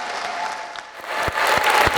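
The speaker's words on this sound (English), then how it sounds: "get one more round of applause" A wedding reception crowd applauds after the toasts, a dense, loud wash of clapping that swells toward the end, with a few sharper individual claps standing out.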